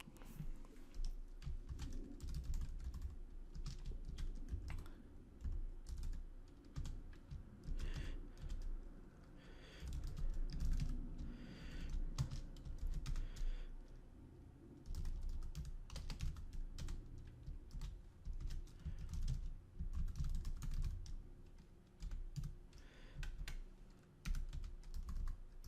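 Code is typed on a computer keyboard in a quiet room, a steady stream of soft, close key clicks with brief pauses, while a pigeon coos faintly in the background.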